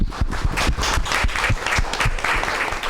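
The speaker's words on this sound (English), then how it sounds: "Let's give them a round of applause." Audience applause for panelists at the close of a quantum science communication panel, with many hands clapping close and steadily in distinct rapid beats throughout.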